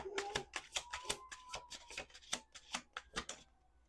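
Tarot cards are shuffled in quick, repeated riffling bursts, close and crisp, stopping just before the end.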